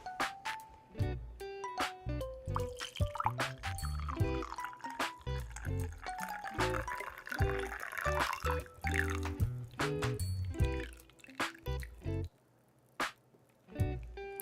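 Coffee poured into a cup: a continuous splashing, gurgling pour with dripping and clinks, close and fairly loud, tapering into a few last drips at the end.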